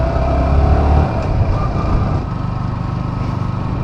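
A car runs off-road on a forest trail, its engine rumbling loud and close with a heavier surge at first before settling into a steady drone.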